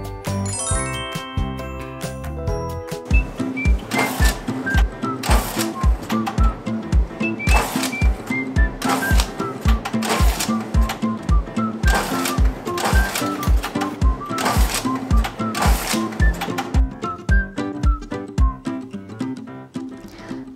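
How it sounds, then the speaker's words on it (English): Feed motor of a YL420S paper and film banding machine running, with a steady rhythmic series of mechanical clicks over chiming tones and faint background music. "Now the feed motor is rotating to ensure that the band is placed correctly on the rail."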